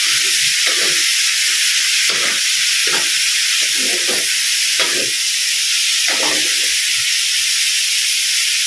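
String beans cooking in a pan for a vegetable dish, with a loud, continuous sizzling hiss and steam that carries on throughout, broken by intermittent soft lower knocks and stirring sounds.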